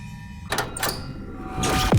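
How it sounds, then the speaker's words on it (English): Inside the Warzone video game, a red door opens with a couple of dull thuds and a sliding clatter, ending in a louder rumble, heard close by without talk. "each of these doors will make a slightly different noise"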